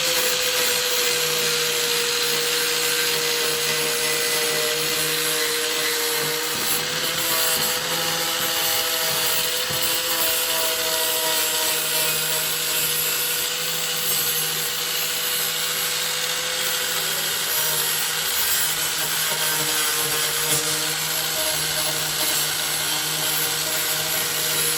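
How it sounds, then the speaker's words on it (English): Grinder cleaning a rusted, rotted Ford F150 frame ready for welding; a loud, steady, close whine runs without a break for the full length, with no talk. "I'm gonna grind all this clean so we can weld to it."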